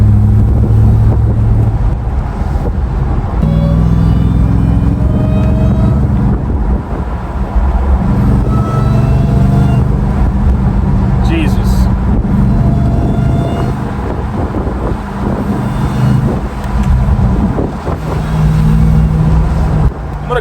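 RAM TRX pickup fitted with a JMB Performance intake, cruising around 40 mph under low boost with the windows closed: a loud, steady engine drone and road rumble lasting throughout, heard from inside the cab.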